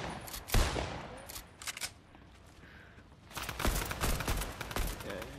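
Gunfire in the video game Fortnite: a few sharp shots, then a denser burst of rapid fire near the end, moderately loud in a quiet stretch of gameplay.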